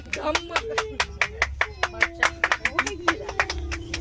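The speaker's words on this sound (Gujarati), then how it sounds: "તાળી પાડો બધા." Audience applause at an award ceremony, a steady patter of many hands clapping at close range over about four seconds while a voice speaks over it.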